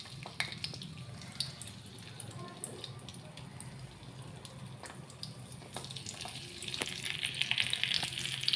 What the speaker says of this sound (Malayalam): ഇതിലേക്ക് അണ്ടിപ്പരിപ്പും കിസ്മിസും ഇട്ട് കൊടുത്തതാണ്.